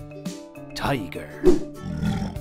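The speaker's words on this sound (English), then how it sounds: "Tiger." A tiger's roar rings out in a children's animal alphabet lesson, rising to a loud peak midway between sung or spoken words, with speech around it throughout.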